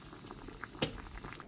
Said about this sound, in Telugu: లైట్గా బాయిల్ అయ్యాయి.